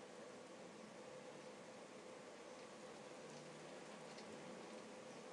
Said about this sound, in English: Wow, it started raining.